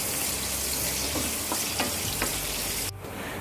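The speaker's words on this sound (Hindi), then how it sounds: "प्याज को हमें हल्का सा कलर चेंज होने तक फ्राई करना है।" Onions frying in a pan for a potato and flat bean sabzi, with a steady close sizzle and a few scraping stirs of a spatula, the sizzle cutting off sharply near the end.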